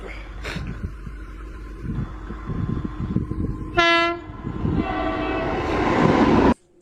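A long electric freight train hauling double-stacked containers rumbles past on an Indian Railways dedicated freight line. Steady rolling wheel noise is broken midway by a loud horn blast, and the sound cuts off abruptly at the end.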